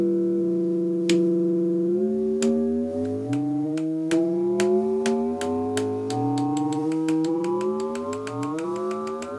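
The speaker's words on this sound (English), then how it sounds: "if you go really, really quick, you can get a FM synthesized kind of thing." Synthesized drum tones from a DIY analog DS-8 clone synth drum repeat with bright metallic FM timbre, each hit sliding in pitch, the strikes gradually speeding up into a rapid electronic pattern.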